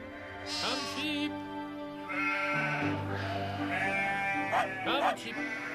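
A flock of sheep bleats in an animated Bible story of Cain and Abel: several wavering, nasal bleats overlap and follow one another at close range, with no talk.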